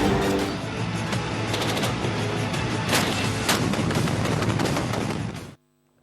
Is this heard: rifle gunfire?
yes